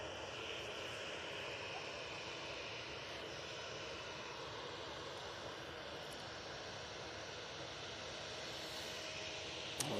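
A KLM airliner's jet engines roar with a steady, broad whine and rumble at Manchester Airport, a constant distant drone at even level.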